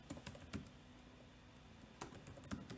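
Typing on a computer keyboard: quiet, close clicks of individual keystrokes in short irregular bursts, with a pause in the middle before another quick flurry of taps.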